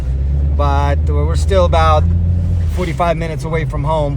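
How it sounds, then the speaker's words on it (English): A car drives out from a snowy mountain trip toward the paved road, its steady low engine rumble continuous beneath a voice talking throughout. "now we are driving out"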